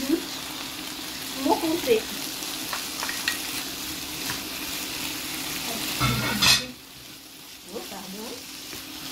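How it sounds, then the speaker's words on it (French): Sausages sizzle and spit in a frying pan with a steady, close crackle, broken by a few utensil scrapes and stirs, and a voice speaks briefly partway through. "Mes saucisses sont en train de cuire."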